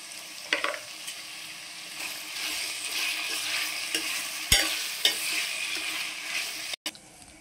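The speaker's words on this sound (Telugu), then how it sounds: "ఈ తోటకూర కాళ్ళము వేసేసుకుందాము. ఇవి కూడా దోరగా మగ్గినవ్వాలి ఈ నూనెలో." Amaranth stems frying in oil in a pan, a steady crackling sizzle close by with occasional stirring clatters and scrapes, no voices.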